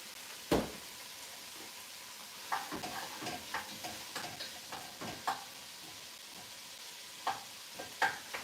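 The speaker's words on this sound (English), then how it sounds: "So the idea of what I'm doing is I'm cooking the veggies, and the tomato" Vegetables and tomatoes fry quietly in a pan with a soft, steady sizzle, punctuated by irregular spoon clicks and scraping taps as they are stirred, fairly close but low in level, with no talking.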